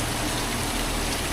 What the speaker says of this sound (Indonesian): Jadi yang di situ aliran air ya teman-teman